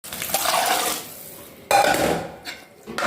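Water is poured from a vessel into a pot of washed vegetables on the stove, two gushing splashy pours separated by a brief pause, close and fairly loud.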